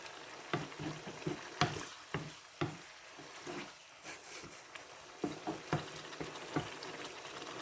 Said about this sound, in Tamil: கத்திரிக்காய் இதுக்குள்ளே போடுவேன்